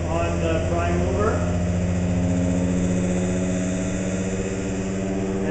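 An electric prime mover motor fed about 67.8 volts and roughly 221 watts spins up with no load, giving a rising tonal whine over a steady mechanical hum while a voice talks.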